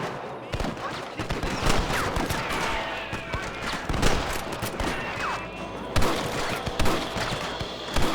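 Rapid gunfire from a shootout with rustlers in Red Dead Redemption, loud sharp shots cracking in irregular bursts throughout, with shouting voices mixed in.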